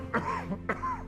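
A doctor in a film scene gives two sharp, close coughs about half a second apart, each a harsh burst with a rough, throaty tail, over quiet background with no talking.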